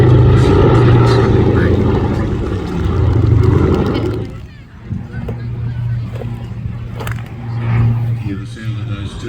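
Twin Garrett turboprop engines drone as an aircraft flies overhead at an air show, a loud steady propeller hum that dips briefly midway and then settles into a sustained tone, with a commentator talking over it.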